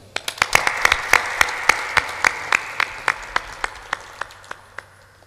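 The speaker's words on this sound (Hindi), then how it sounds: "एक बार और ताली बजाओ।" An audience at a spiritual discourse applauds, with sharp individual claps standing out over a steady wash of clapping that gradually thins and fades toward the end.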